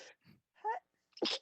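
A few short, faint, nearby bursts end in one sharper sneeze near the end, with quiet gaps between them.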